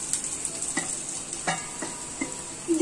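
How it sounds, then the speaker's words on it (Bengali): Bitter gourd is stirred into fried onions in a pan: a soft continuous sizzle broken by several sharp scraping and clanking strokes of a spatula, close by and with no voices. "এখন এর মধ্যে করলাটি দিয়ে দেব।"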